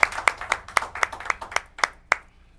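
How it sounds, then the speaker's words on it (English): Applause at a Thanksgiving Day special of a local television show: about nine sharp, evenly spaced claps ring out close by, fading at the end, with no talking. "Let's a round of applause for them, please."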